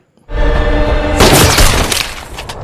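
A sudden loud sniper rifle blast in a film bursts out after a brief silence and rolls into a long, noisy, crackling echo.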